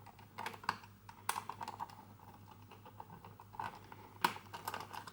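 A coin unscrews the lid of a Zeiss Ikon Voigtländer MS8 Super 8 camera, heard as faint close scraping and light metallic clicks in an irregular pattern, with a few sharper ticks.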